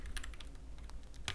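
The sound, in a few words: typing on EPOMAKER TIDE 75 mechanical keyboard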